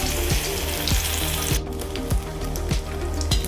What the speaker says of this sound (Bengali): চলো, তেল গরম হয়ে গেছে, প্রথম পাত্তি দিয়ে দিলাম, এরপরে সেকেন্ড পাত্তি দেবো।